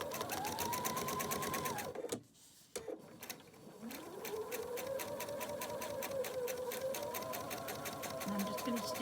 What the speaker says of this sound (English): I'm going to stitch slow here because my camera is attached to the table that my sewing machine is on.